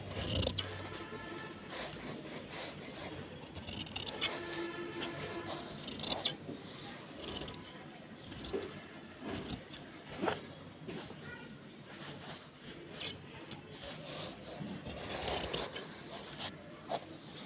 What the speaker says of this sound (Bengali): এই হার্ট শেপে কেটে নিচ্ছি।